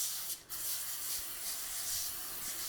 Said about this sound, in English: put some spray oil on here.